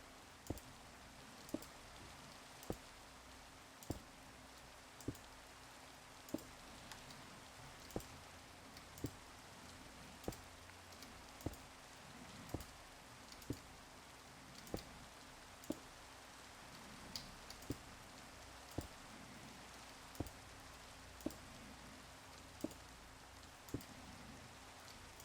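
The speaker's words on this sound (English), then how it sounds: "And now it's raining, which is always fun." Steady Minecraft rain hisses across the whole clip, broadband and even, with regular sharp ticks roughly every second over the patter; no voices.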